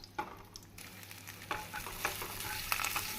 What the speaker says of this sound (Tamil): தேங்காய் பூ போட்டு நன்றாக கலந்து விட வேண்டும்